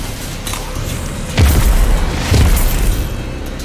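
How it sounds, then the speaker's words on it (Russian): In Destiny 2, two deep, heavy booms from grenade blasts land about a second apart over a steady rumbling background, each swelling and fading. "Предложили нам бросить гранату, чем я, в принципе, и воспользовался"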